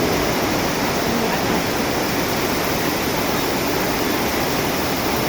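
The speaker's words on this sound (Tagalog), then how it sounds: "Grabe yung pagbaha." Floodwater in a river in Rizal, Philippines, during Typhoon Carina roars continuously and loudly, a dense, unbroken torrent, with no voices.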